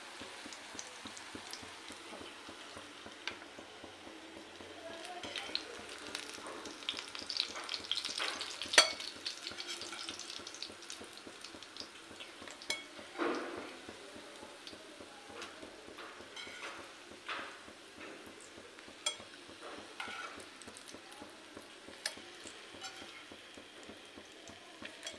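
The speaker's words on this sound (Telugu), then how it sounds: "చూడండి మన వంకాయ పీసెస్ అయితే ఫ్రై అయిపోయినాయి" Brinjal pieces fry in hot oil in a pan, a soft, continuous sizzle and crackle with scattered pops and occasional stirring scrapes, heard close and fairly quiet.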